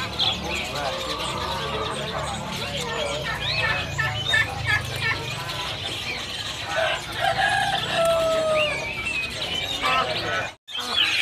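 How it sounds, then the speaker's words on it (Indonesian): Hill myna (beo), a tame caged bird at a bird market stall, gives whistled and chattering calls amid a busy din of other caged birds, with someone talking over it. "Ini penampakan beonya teman-teman."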